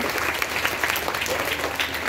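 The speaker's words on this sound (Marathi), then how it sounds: "टाळ्या" Students clap for everyone during a school session with children's author Dr. Sangeeta Barve: a brief, continuous burst of group applause, full and even from start to finish.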